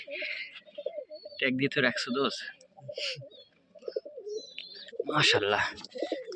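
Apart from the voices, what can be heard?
Rajshahi Giribaz pigeons cooing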